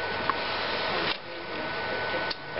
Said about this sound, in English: you'll see that the carriage moves over